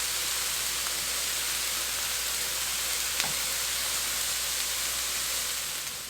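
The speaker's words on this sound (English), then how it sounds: "Now let's saute the meat." Ground turkey sautéing in a pan for stuffed peppers, a steady broadband sizzle and hiss that holds evenly, with one brief faint clink partway through.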